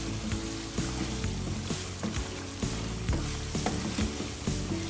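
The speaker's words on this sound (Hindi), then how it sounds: "इसको अच्छे से हम फ्राई कर लेंगे, अच्छे से सौते कर लेंगे।" Chicken frying and being stirred in a pan with achar gosht masala, a steady loud sizzle broken by regular scraping stirs of the spatula, close up and continuous with no talk.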